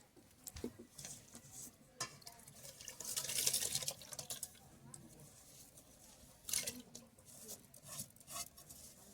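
Gobindobhog rice washed and tipped into water, with soft splashing, trickling and grains swishing against a metal pot in irregular bursts, close but faint, with a few scattered clinks.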